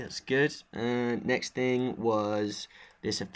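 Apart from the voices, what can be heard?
No everyday noise stands out behind the speech.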